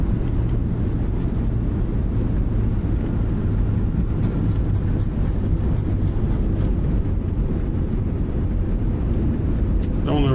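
Steady loud roar of an A321neo jet in Microsoft Flight Simulator after touchdown at San Antonio, a dense broadband rumble holding constant throughout with a faint rising whine near the end.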